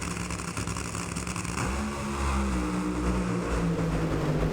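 NHRA drag racing cars running down the drag strip: a loud, continuous engine roar that rises and shifts pitch midway as the cars accelerate past, heard without talk.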